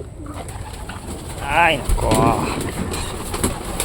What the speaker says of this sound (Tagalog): Dadalhin natin sa sa bundok yung pigeon natin.